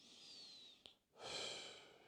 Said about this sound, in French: tu finis par 3 belles respirations tranquilles